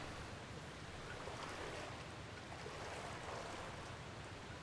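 Broadband watery rushing and churning fills the clip as a character swims through water in Far Cry Primal, a dense, continuous wash with no talking.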